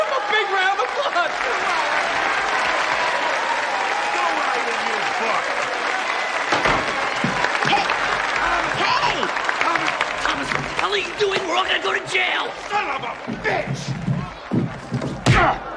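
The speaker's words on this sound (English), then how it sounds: "Give him a big round of applause!" Audience applause in a large crowd, steady clapping throughout with thuds and shouts breaking in toward the end, loud and close.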